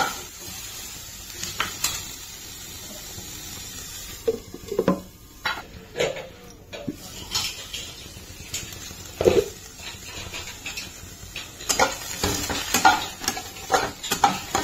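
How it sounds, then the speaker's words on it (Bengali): Vegetables and capsicum are stirred in a pan with a utensil, giving soft intermittent scraping and clinks over a faint steady sizzle, close and quiet, with no talking. "আমি এটাকে নাড়তে থাকবো"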